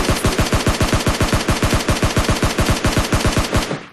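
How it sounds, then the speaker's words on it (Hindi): Rapid automatic gunfire in the PUBG Lite battle-royale game, a loud, steady burst of about thirty evenly spaced shots lasting nearly four seconds, heard alone. "यहाँ पे आते ही मुझे फायरिंग का आवाज आता है।"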